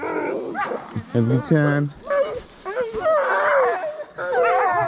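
Sled dogs at a kennel in Ely, Minnesota, bark, yip and whimper excitedly at close range during a winter morning visit, their cries overlapping with a person's friendly talk throughout.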